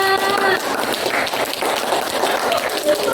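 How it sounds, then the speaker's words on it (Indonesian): A class applauds a student during a history lesson, a continuous, loud wash of many hands clapping together, with voices mixed into the noise throughout. "Tepuk tangan untuk Nana"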